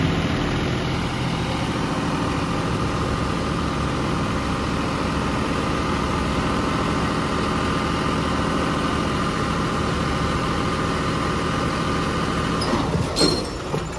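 A tractor engine runs steadily at idle for the whole stretch, a loud, even low rumble with constant vibration and a brief clatter near the end, with no talking.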